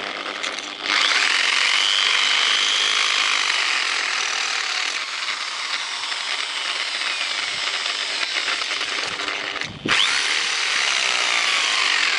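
A power drill whines loudly and continuously while working on the axle of a Prykarpattets TMK-02 mini-tractor, briefly cutting out near the end before starting up again.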